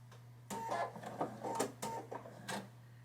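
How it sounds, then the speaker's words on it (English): A sewing machine fitted with a walking foot stitches a mini quilt in quick bursts of mechanical clatter, with short pauses between runs over a steady low motor hum, heard close and fairly quietly. "I stitch a few stitches to lock it in place, and then I'll stitch all the way along the line"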